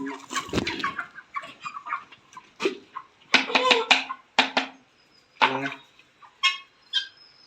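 Hens clucking in short irregular bursts, with a few louder squawks, close by with quiet gaps between calls.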